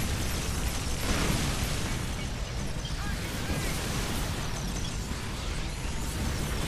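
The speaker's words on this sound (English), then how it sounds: "I'm using my ridiculous shotgun here." Dense, continuous roar of weapon blasts and explosions from a ridiculous shotgun fired repeatedly in Earth Defense Force, loud and unbroken with no clear gaps between shots.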